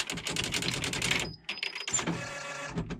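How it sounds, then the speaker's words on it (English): Rapid, dense keystrokes clatter steadily on a springy, typewriter-style keyboard, with a short pause and a brief bell-like ding before the close, brisk tapping resumes. "and as I'm typing,"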